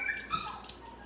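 A dog whines softly in short, high, wavering whimpers, faint against a quiet background.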